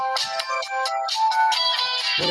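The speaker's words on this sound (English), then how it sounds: "I think that's Sean's phone." A mobile phone ringtone plays a bright, warbling electronic melody of repeated tones, loud and close, with no voices over it.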